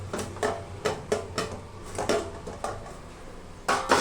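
A plate used as a lid is lifted off a pan of steamed patra, giving a series of light ceramic-on-metal clinks and knocks in a loose rhythm, close and fairly clear with no talking.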